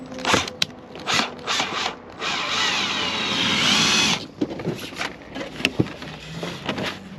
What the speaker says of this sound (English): grab a drill and get to cutting